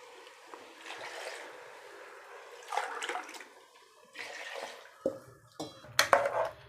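Water splashes and trickles into a pot of tomato rice, with clinks of metal cookware and a few sharper pours toward the end; no voices.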